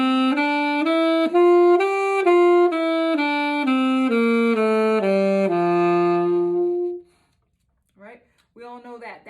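A saxophone plays a legato scale up to the ninth note and back down, clear stepwise sustained notes ending on a held low tone, followed by a brief voice.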